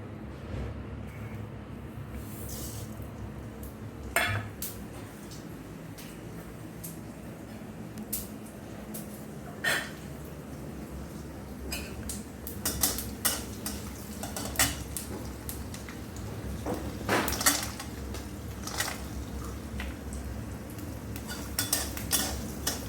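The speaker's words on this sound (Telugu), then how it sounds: "ఆవాలు, నువ్వుల పప్పు, ఇలాగ వేరుశనగ గుళ్ళు, ధనియాలు, ఎండుమిరపకాయలు. ఇవి అన్నీ నూనెలో వేయించుకుందాం." Mustard seeds, sesame, peanuts, coriander and dried red chillies frying in a little oil for pulihora and gongura chutney, with a steady low sizzle under repeated metal clinks and scrapes of stirring in the pan.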